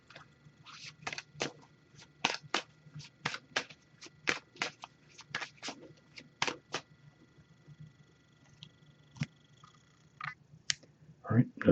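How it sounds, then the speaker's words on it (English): Oracle cards being shuffled by hand during a tarot reading, a run of quick crisp riffling bursts in steady rhythm, close and fairly quiet, with a low hum beneath and a few louder handling clicks at the end. "I'm just going to give this a few shuffles."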